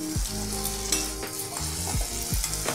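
Spice paste with ground poppy seed paste sautés in oil for a fish curry, a steady close sizzle broken by a few low scraping stirs of a spatula against the pan.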